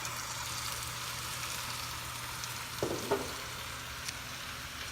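Oil sizzling in a pan for a stir fry with spinach, a faint steady hiss with a couple of soft clinks and stirring knocks partway through.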